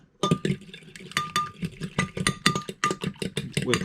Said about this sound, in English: So you're going to go ahead and whisk those eggs up.